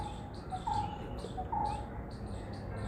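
A bird calls twice in short, thin, whistled notes at a distance, faint over a constant outdoor background hiss.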